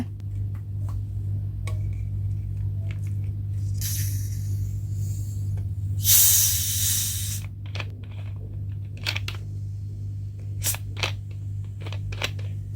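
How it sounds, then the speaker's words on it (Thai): A bottle of homemade mulberry tepache is opened, releasing two bursts of close, loud hiss, the second longer, among scattered small clicks and crackles over a steady low background hum, with no talking. "ดี๋ยววันนี้เราจะมาลองเปิดชิมค่ะ เทปาเช่มัมเบอรี่ ไปฟังเสียงกันก่อนเลยนะ"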